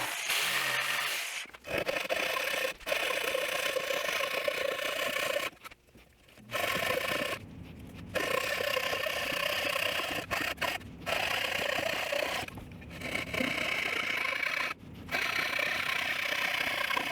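Steady scraping rasp strokes of a hand rasp filing plastic, close and continuous, with a few brief pauses between passes.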